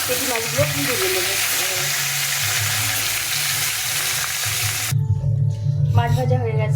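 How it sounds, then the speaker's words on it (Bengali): Belly pieces of fish fry in hot oil for a Bengali fish curry, a dense steady sizzle with a voice faintly present, then a brief clatter and a running-water splash near the end. "বাকি মাছগুলো, পেটি মাছগুলো ভেজে নেব।"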